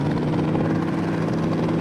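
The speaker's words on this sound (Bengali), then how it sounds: "আমরা বর্তমানে বাইক দিয়া হেলিকপ্টার নিয়ে নিলাম।" Helicopter in the video game Indian Bike Driving 3D, a loud continuous rotor drone with steady low thumping, close and alone.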